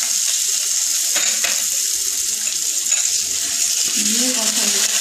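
Ginger, cumin and black pepper paste frying for a vegetable curry, a steady loud hiss and sizzle running unbroken throughout with faint clinks and stirring underneath.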